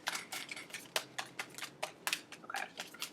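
Tarot cards being shuffled by hand, a quick series of crisp papery riffles and taps, close and fairly quiet, with no talk.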